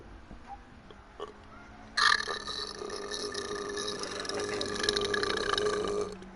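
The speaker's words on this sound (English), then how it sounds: "I best get rid of this burp quickly then." A long, loud belch erupts close to the mic and rumbles on for several seconds, preceded by quiet room noise.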